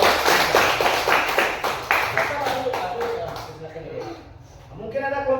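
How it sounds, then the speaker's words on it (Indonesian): A primary school class claps in rhythmic unison for a student group in a classroom, sharp regular beats that speed up and then fade, with children's voices chattering over the final moments. "kami tepuk tangan dulu untuk kelompok"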